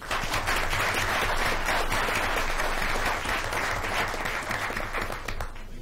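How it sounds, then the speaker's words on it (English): Parents and attendees at a school board meeting give a sustained round of applause for recognized students, dense even clapping that holds steady and tapers slightly at the end. "One more round of applause, please."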